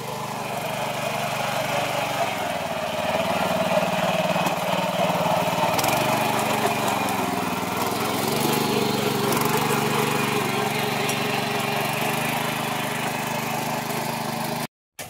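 A farm machine's engine drones steadily while puddling a flooded paddy field before rice planting, a continuous mid-pitched motor hum heard close for the whole stretch and cutting off abruptly at the end.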